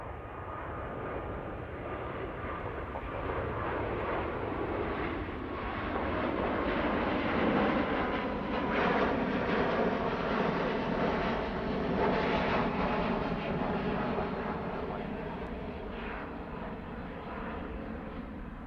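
A Virgin airliner takes off from runway 09 right at Heathrow, its engine roar a steady broadband rumble that swells to a peak mid-clip and then eases slightly as it climbs away.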